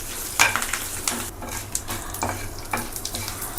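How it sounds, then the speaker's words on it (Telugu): Tempering spices and lentils fry in hot oil in a pan for ivy gourd chutney, giving a close, soft sizzle broken by repeated scraping and clinking as a spoon stirs them. "ఇదిగోండి తాలింపు చూసారా, దోరగా ఇలా వేయించుకోండి."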